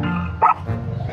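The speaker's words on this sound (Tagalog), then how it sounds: "Oo, tatawid yung aso." A dog near a paved road gives one short bark midway through, heard fairly close over a low steady engine rumble.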